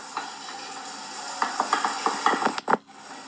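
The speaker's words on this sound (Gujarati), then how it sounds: "હવે નાખીશું મરચાં અને આદુની પેસ્ટ." Chili and ginger paste frying with browned onions in a pan for a green methi vegetable dish, a steady close sizzle with scraping stir clicks toward the end.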